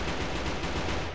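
Light machine gun fire in a video game rattles continuously, a dense, loud and unbroken burst that fills the whole moment.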